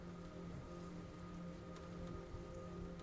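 Steady rain falls on surfaces in a peaceful storm, a dense, even patter that holds at the same level throughout, with no voices or distinct thunderclaps.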